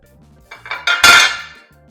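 A dish is picked up and set down in a home kitchen while deviled eggs are being made. A few light clinks and scrapes build to one firm ceramic knock on the counter, heard close and alone.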